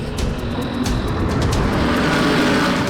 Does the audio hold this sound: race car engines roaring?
yes